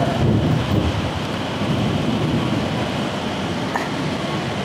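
Outdoors, rain falls steadily with a low rumble of thunder beneath it, forming a continuous wash of noise that is loudest at the start and then evens out, with no clear speech.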